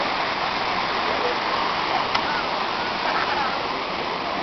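A mountain waterfall roars continuously, a dense, even rush of falling and splashing water that fills the whole scene at a steady loud level with no breaks.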